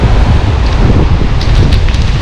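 Strong wind blasts across a seafront promenade at Lazarevskoye during a sea storm, a loud, buffeting roar pounding close against the microphone throughout.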